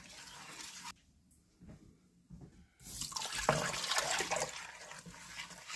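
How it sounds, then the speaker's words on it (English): Four cups of water poured into a crockpot for oatmeal, a steady close splashing pour that builds after a quiet pause and runs for several seconds. "Now, 4 cups of water, and that's it."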